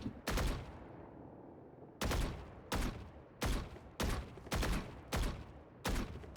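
Sharp bursts of video game gunfire, a single shot followed by a steady series of short evenly spaced volleys, loud and close, with no talk.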